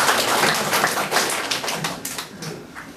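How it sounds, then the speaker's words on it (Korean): Dense clapping from a lecture audience fills the whole stretch, steady and fairly loud, with no voices heard. "박수 한번 쳐주십시오."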